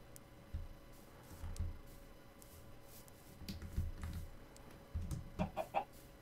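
Minecraft chickens give short clucking calls in scattered bursts over steady low game ambience, several clucks clustered near the end.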